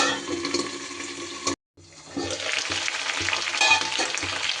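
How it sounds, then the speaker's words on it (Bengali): Broad beans frying and being stirred in a pan: a steady wet sizzle with scraping stir strokes, a brief silent gap partway through, then louder crackling frying. "একটু ঢাকা দিয়ে দিয়ে শিমটাকে একটু নাড়াচাড়া করে ভেজে নিতে হবে"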